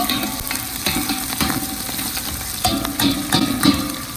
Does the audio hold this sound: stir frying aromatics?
yes